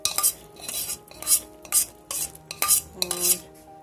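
A metal spoon stirs tempering into sambar in a pot, clinking and scraping against the sides in about six short, uneven strokes, close and distinct with no voices.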